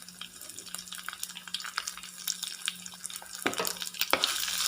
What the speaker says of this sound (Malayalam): ഒരു കഷ്ണം ഇഞ്ചി, അതുപോലെ ഒരു 8 അല്ലി വെളുത്തുള്ളി ചെറുതായിട്ട് അരിഞ്ഞു വെച്ചിരിക്കുന്നത് ചേർത്ത് കൊടുക്കാം.